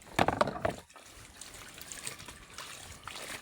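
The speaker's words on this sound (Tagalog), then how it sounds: "Banlawan natin ito mga kapabri para matapos." Water splashes and trickles while laundry is rinsed by hand outdoors, with a burst of sloshing at the start settling into a steady, moderately loud flow.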